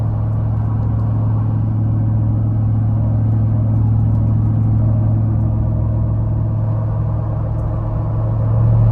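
Jeep Rubicon 392 cruising at about 50 mph in sixth gear while towing a trailer, a steady loud low engine drone and road rumble from inside the cab, continuous throughout with a slight swell near the end.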